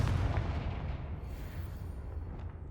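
A deep blast from a Confringo blasting spell in a wizard video game, a loud low boom that rumbles and fades over a couple of seconds with no talk over it.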